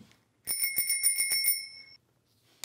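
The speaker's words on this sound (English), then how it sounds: "Anytime someone says they want a baby, we ring the bell." A hand bell is rung as a gag in a studio setting, a rapid bright ringing of about eight strokes that lasts over a second and then fades away.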